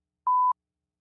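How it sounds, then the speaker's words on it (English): A single short electronic censor beep from a censor button, a clean steady tone lasting about a quarter second amid silence. "Good timing on that beep."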